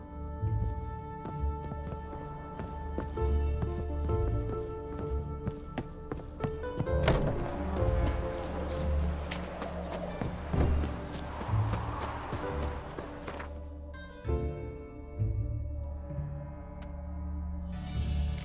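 Hooves of Geralt's horse Roach clop in a fast, steady galloping rhythm in The Witcher 3, close and prominent over music and ambient sound, with a brief whinny partway through.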